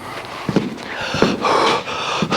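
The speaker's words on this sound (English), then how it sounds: "You'll edit out all the heavy breathing" Heavy, labored breathing from a person working under a classic car while replacing a rusty floor pan, a few loud close pants and exhales in uneven bursts, with no talk over them.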